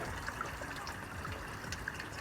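Water running and trickling off tilted mats, a steady soft wash of flow with no speech.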